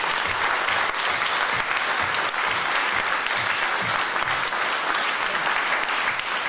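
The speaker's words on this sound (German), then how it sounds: "Applaus für Projekte." An award ceremony audience claps loudly and continuously, a dense, even wash of applause from a large room that holds steady throughout.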